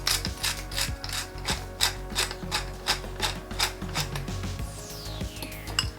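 A pepper mill grinds pepper over egg salad in a steady series of close, crisp ratcheting clicks, about two grinding twists per second, with no talk.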